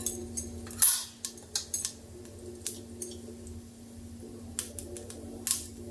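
Mustard seeds crackling in hot oil while a paratha is cooked, a string of sharp, irregular pops and snaps, some close and bright, scattered over a low steady hum of the stove.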